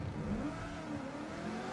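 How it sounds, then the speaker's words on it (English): A V8 Supercar engine in the MotorMotion racing game revs and idles with a rough, mid-pitched growl that swells briefly, steady and close without any talk. "So as you can hear, these cars sound awesome"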